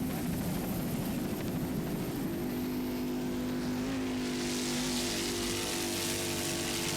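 Offshore racing powerboat Extreme Stainless at full throttle in a West Palm Beach offshore race, its engine drone rising in pitch as it passes, under heavy wind and water roar that stays loud throughout.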